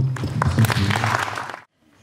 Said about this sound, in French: Nous donnons une belle acclamation